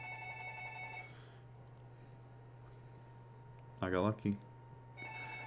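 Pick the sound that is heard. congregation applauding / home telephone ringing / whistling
home telephone ringing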